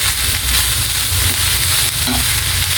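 Bamboo shoots with pepper are stirred in a hot frying pan, a steady close sizzle and frying hiss running throughout with soft scraping of the spoon.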